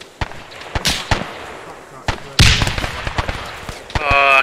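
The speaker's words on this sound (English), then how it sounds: "I got hit by my own frag." Frag hand grenade detonating in ArmA 3 jungle combat set in WW2 Guadalcanal, a sharp loud blast among several scattered pops and thumps, followed by a harsh burst near the end.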